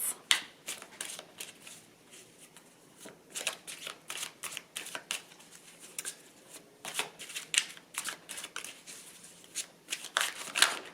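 Tarot cards being shuffled and drawn indoors, a long run of quick riffling and snapping bursts with short pauses between them, close and fairly quiet, with no talking.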